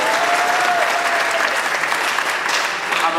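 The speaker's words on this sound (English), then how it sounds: "Give her a round of applause." Dense crowd applause rolls through a live speaking event, loud and continuous for a few seconds, with a brief voice faintly audible early on.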